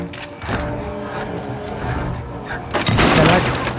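Loud boom-like burst near the end of a shotgun blast in the video game Little Nightmares 2, rising out of a busy game soundscape with rumbling low tones, a single sharp impact followed by a noisy tail.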